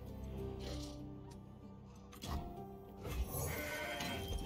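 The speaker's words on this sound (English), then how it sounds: "We got a goat." A goat bleats in the Legends of Runeterra card game, a short wavering cry heard against soft game sounds and faint clicks, fairly quiet and close.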